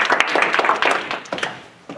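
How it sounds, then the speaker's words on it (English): Attendees at a game development week session give themselves a short round of applause, a brief burst of near clapping that tapers off within two seconds. "Give yourself a round of applause."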